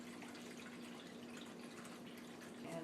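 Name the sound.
water filling a roasting pan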